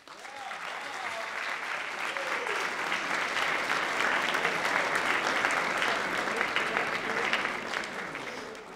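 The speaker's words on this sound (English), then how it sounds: "give your loved ones a round of applause" An audience at an evening student ceremony applauds loved ones with sustained, building clapping that swells in the middle and eases off slightly at the end, with a few faint voices beneath.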